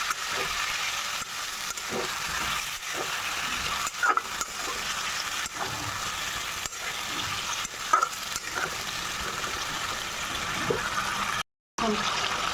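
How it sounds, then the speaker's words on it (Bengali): Spiced fish curry with potato and cauliflower fries in a pan as a little water goes in, giving a broad steady sizzle with soft stirring and scraping, fairly close, and a brief break near the end. "একটু জল দেবো আর এভাবে কষিয়ে নেবো"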